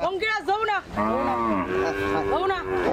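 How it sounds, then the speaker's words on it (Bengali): Cows on a large cattle farm moo loudly and close by, several long drawn-out calls overlapping and following one another over a few seconds, with no other sounds. "ওনারা গাভীর নাম ধরে ডাকছে, গাভীগুলো আসছে"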